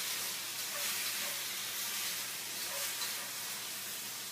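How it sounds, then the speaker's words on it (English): Beef frying in a pan gives a steady, even sizzle with soft steamy hiss, close and continuous, with no talking over it. "Okay, so my meat's cooking."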